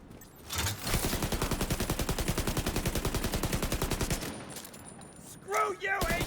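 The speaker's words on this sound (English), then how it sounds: "Speaking of the minigun." Sustained rapid-fire minigun burst in a video game, a dense, even rattle of shots running for about three seconds at steady volume, then trailing off into quieter game noise with a brief voice near the end.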